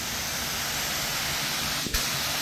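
A spray gun sprays flat clear coat onto a 1967-69 Camaro fender in a steady, even hiss without a break, with a short click near the end.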